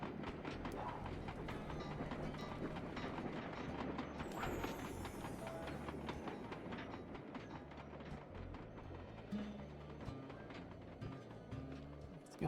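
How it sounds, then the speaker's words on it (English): A train rolls past in Sly 2: Band of Thieves, a steady rumbling clatter of wheels over rails that keeps going for the whole stretch at moderate distance, with game sounds layered on top. "Oh, there's a train."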